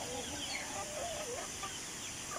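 Chickens clucking softly at close range while being fed on a rural farm, with a steady murmur of farmyard noise underneath and no talking.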